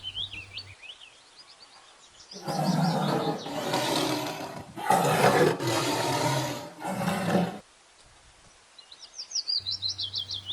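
A tiger's roar, several deep bursts in a row, sounding close and loud, with birds chirping faintly before and after.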